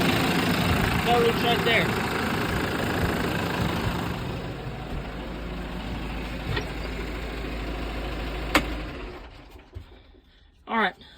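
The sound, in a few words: Workmaster 105 tractor engine idling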